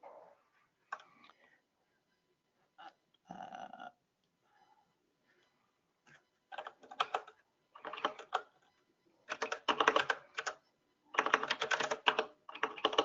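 Someone types on a computer keyboard while working through unit test code, with scattered clicks at first, then dense, rapid bursts of keystrokes growing louder toward the end, separated by short pauses.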